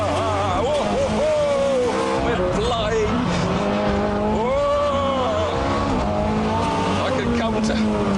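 A Ferrari F430 engine roars and revs loudly while tires squeal as the car slides in power oversteer, with a voice talking over the noise throughout.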